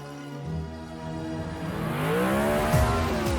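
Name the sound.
car driving into a tree in Descendants 4 film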